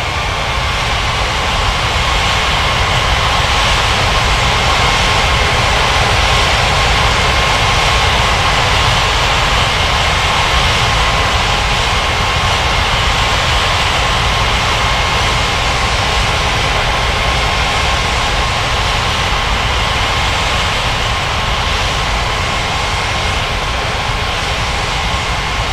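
Loud, continuous jet engine roar from aircraft at Bengaluru airport in India, a steady broadband rumble and whine holding level with no talk.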